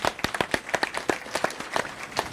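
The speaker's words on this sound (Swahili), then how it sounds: "Pigia Yesu makofi mazuri." A church congregation claps for Jesus, a brisk run of close, loud, fairly rhythmic handclaps that lasts a couple of seconds with no talking.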